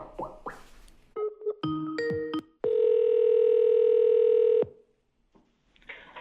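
A phone call starts with a few dialing tones and short beeps, then a steady, loud tone holds for about two seconds before cutting off into a brief quiet with a faint sound at the end.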